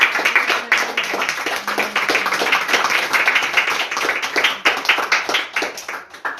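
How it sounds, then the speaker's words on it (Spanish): Church congregation applauding, dense rapid hand clapping from many people at an even, lively pace, loud and close, continuing for several seconds without speech. "aplauso al Señor."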